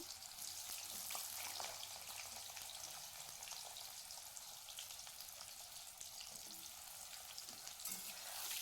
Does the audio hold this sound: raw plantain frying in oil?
yes